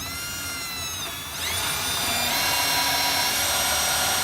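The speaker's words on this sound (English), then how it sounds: "We're going to drill right where we put our yellow marks." A power drill whines loudly while boring holes into a ceiling to mount a flat TV. The drill speeds up sharply after a second and then holds a sustained high-pitched drone.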